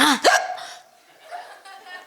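A voice imitates a hiccup with one sharp, abrupt gulp, followed by soft laughter from a crowd and quieter chuckles trailing off.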